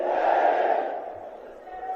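A large crowd at a political rally at Ramlila Maidan chants together in one loud, sustained roar that fades slightly toward the end.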